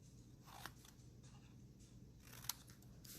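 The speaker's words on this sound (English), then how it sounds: "We're going to snip it" Scissors snip through cardstock while trimming a small piece off a Hershey Nugget treat holder box, giving a couple of faint, quick, crisp cuts in a quiet room.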